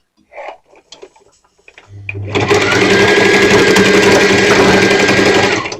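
A few faint handling knocks and taps come first, then a sewing machine starts stitching a skirt's facing, a loud, steady, rapid mechanical whir with fast needle ticking that continues to the end.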